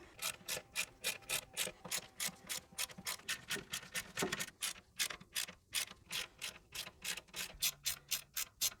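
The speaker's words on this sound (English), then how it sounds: "we're just going to go around with a 10mm socket and nip them up" A 10mm socket ratchet nips up the bolts on a Toyota Landcruiser swivel hub, giving a steady run of rapid, evenly spaced clicks up close, with a brief pause midway.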